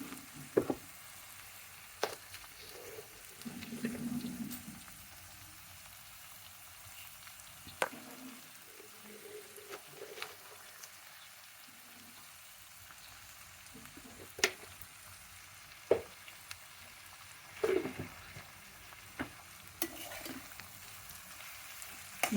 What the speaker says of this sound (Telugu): ఇందులో రవ్వ కూడా వేసి వేయించుకుంటున్నాను.